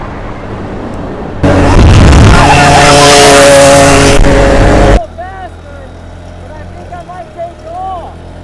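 A scooter ridden fast at night, a loud roaring rush of wind and motor for several seconds that cuts off abruptly, leaving quieter road noise with chirpy squeaks.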